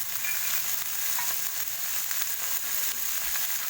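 Spices, including star anise, cinnamon, bay leaves and cardamom, fry for buffalo meat rendang with a loud, continuous sizzle, stirred in the pan with faint scraping throughout.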